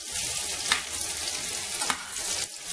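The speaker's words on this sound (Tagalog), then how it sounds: "Medyo lulutuin po natin yung sibuyas." Onions frying in a pan for Filipino beefsteak, a dense steady sizzle with occasional crackles and soft stirring scrapes, close and continuous with no talk.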